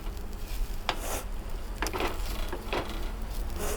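Vegetable skins roasting in ghee in a pan are stirred, giving several scraping strokes over a continuous low sizzle, close by and with no talking.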